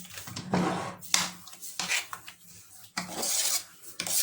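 Bulgur and lentil mixture being stirred in a bowl, giving close scraping and rasping strokes in irregular bursts with small clinks of utensil against the dish, no speech.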